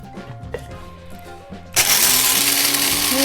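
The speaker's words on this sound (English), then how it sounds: "We are going to now grind the coffee beans" An electric grinder grinds roasted coffee beans for a traditional Ethiopian and Eritrean coffee ceremony, starting abruptly partway through as a loud, steady, close whirring roar after quieter handling sounds.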